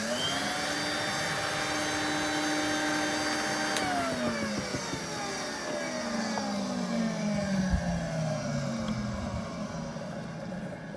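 A restored vintage 1978 Numatic NV250 vacuum cleaner with worn, grinding bearings runs outdoors. Its steady motor whine drops in pitch partway through as it slows, under a rough, rumbling hum, with no one speaking.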